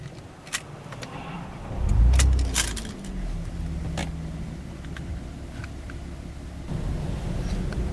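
A 2012 Opel Insignia OPC is started with the clutch pressed and the key turned: keys jangle, the starter whirs and the engine catches with a low rumble, then settles into a steady idle inside the cabin.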